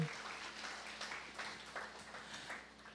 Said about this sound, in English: Can we give a clap of offering to the Lord?